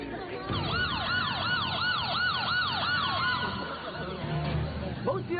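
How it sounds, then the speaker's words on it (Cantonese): A wailing police car siren rises and falls in rapid repeated sweeps for several seconds, loud and close, then cuts off, leaving street noise and faint voices. "冇事啦，警車嚟啦！"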